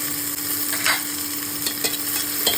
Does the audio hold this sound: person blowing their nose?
no